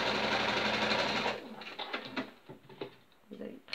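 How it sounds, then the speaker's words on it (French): A sewing machine stitches both sides of a fabric pocket for a dress, giving a loud, steady whir for over a second before it stops, followed by scattered handling sounds and soft clicks. "et là vous cousez des deux côtés"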